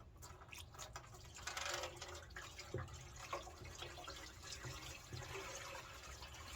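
Water splashing and trickling into the fuel tank of a 2007 Kawasaki Vulcan 1500 Classic motorcycle to loosen debris, with uneven drips and gurgles over a steady low background.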